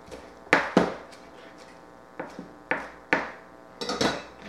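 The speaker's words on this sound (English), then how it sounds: "Rough chop." A knife rough-chops fresh basil on a cutting board, giving a handful of sharp, close knocks in irregular clusters with quiet gaps between them.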